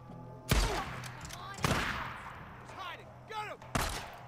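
Gunfire in the zombie survival game Days Gone: three sharp, loud shots spaced a second or two apart, each with a ringing tail, separated by quieter game sounds and faint chirping noises.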